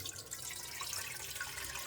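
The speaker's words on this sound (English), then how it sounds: "what we need to do first is add a bit of water" Water pours steadily into a cooking pot while apple compote is being made, a close, continuous splashing trickle with no talk.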